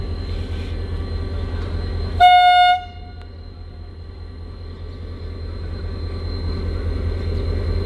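A horn on a German-built Pakistani diesel locomotive, class 8203, sounds one loud, sustained toot over a steady rumble of running engines and rail noise at a station.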